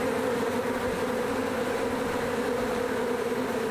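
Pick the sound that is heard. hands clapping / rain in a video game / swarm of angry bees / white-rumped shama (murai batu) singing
swarm of angry bees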